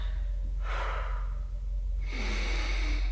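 A person breathes audibly through a calf raise exercise in a rehab session, with two long, airy breaths, an inhale and then an exhale, close and clear over a low steady hum.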